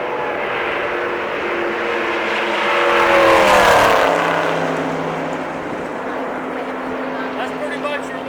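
A race car at the Daytona 500 speedway eases off as it slows to enter the pits, a broad engine roar swelling around the middle and then fading, with people talking over it throughout.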